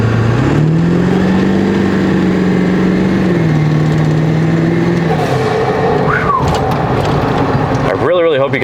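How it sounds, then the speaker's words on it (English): A 7.3L Powerstroke diesel Ford F250 idles loudly up close and then revs, ending in a quick turbo flutter. A person talks over the steady engine drone. "I'm gonna give it one more rip up here and really show you guys this turbo flutter"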